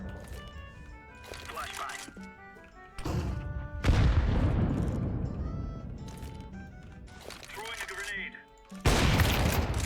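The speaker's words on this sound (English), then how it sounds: "That's a nade, not a flash" Grenade blowing up in Counter-Strike on the De_Victoria map's B bombsite, a loud booming blast amid scattered gunfire and game noise, with players talking excitedly over it.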